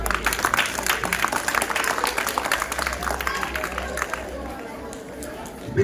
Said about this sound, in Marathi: टाळ्या वाजव मुलांसाठी